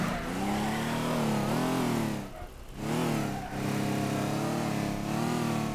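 A car in the game Teardown revs hard, its engine climbing and falling in pitch through loud repeated surges, with two brief gaps where the throttle drops before it pulls again.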